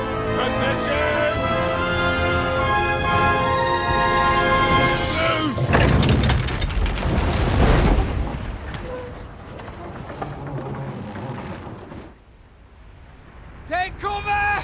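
A volley of shots rings out during a battle in Kingdom Come: Deliverance 2. A dense, loud burst of firing comes after music and shouted commands, then fades into lingering battle noise, with voices around it.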